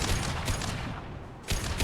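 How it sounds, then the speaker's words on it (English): Sharp weapon fire in the Mass Effect 2 shooter game comes as a loud burst of shots at the start, a short lull, then another abrupt blast near the end. "Firing a high impact shot"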